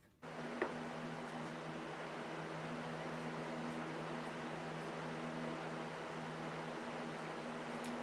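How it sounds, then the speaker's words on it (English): An electric fan runs in a craft room, a steady broadband whoosh with a low constant hum that starts abruptly and holds evenly throughout, with no talk over it. "I don't know if you guys can hear the fan"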